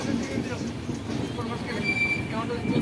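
Inside a night passenger train running from Bandel to Puri, a steady, loud rumble of wheels and carriages fills the clip, with a thin squeal of wheels and voices faintly mixed in.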